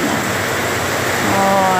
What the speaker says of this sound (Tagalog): dito sa Bicol, grabe ang ulan